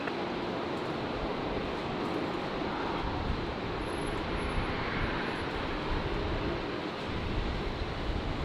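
An Air New Zealand airliner takes off from runway 19 left at Brisbane Airport on a windy day, its engines a broad, steady roar at some distance, sustained and even throughout with wind noise mixed in.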